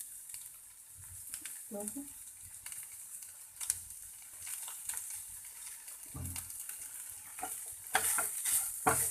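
Crumbled paneer frying and being stirred in a pan, giving a soft steady sizzle with scraping stirs of the spoon at intervals, moderately close.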